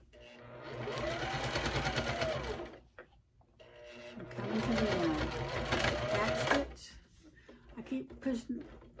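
A home sewing machine stitches in two long steady runs of rapid mechanical whirring and needle clatter, close and loud, with a brief pause between them and a person talking quietly over the motor.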